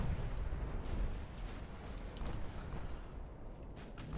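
Warship guns fire in a naval battle game, heard as a dense rumbling stream of distant booms and crackling blasts under steady background roar, fairly faint and continuous without speech.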